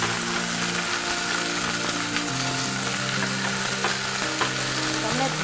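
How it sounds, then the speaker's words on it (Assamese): Fiddlehead fern (dhekia) with green chilli frying in hot oil, a constant close, dense sizzle throughout with no talking. "এতিয়া ইয়াতে জলকীয়া দিলোঁ, দি পেলাই এই ঢেকীয়াখিনি ভাজিম"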